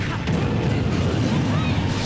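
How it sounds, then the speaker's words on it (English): A booming explosion in a Super Smash Bros doubles match, rumbling loudly through a dense game mix for about two seconds. "Jeez, that was an explosion right there."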